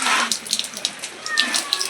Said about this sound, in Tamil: தண்ணியில் வந்து ஒரு வாஷ் பண்ணிடுங்க